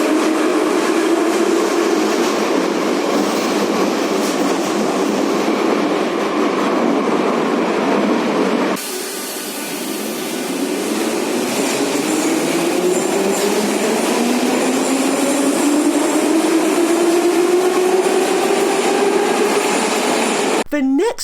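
A Kyiv metro Type 81 train runs steadily with loud rolling rumble and a rising electric motor whine as it accelerates, heard from inside the carriage.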